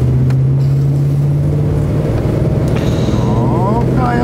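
A Chevrolet Express Explorer Limited van's 5.3-litre V8 gives a steady, fairly loud low engine drone with a slight rise as it is revved, with voices talking over it.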